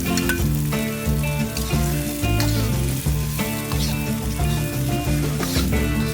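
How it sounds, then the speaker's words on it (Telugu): Chopped onions frying with ridge gourd chutney in a pan over a low flame, a steady sizzle lasting throughout under prominent background music. "లో ఫ్లేమ్లో పెట్టుకొని ఈ ఉల్లిపాయ ముక్కలు ఈ చట్నీ బాగా మిక్స్ అయ్యే మరిగా కలుపుకొని లైట్గా వేయించుకోవాలా"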